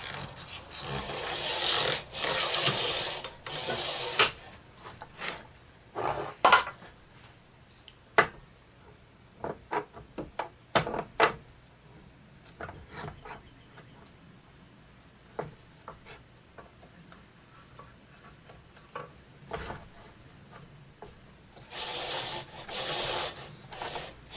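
A wood lathe turning a sea grape vase at 340 RPM, with a tool scraping and rubbing the spinning wood: long loud bursts at the start and end, and short scratchy contacts in between.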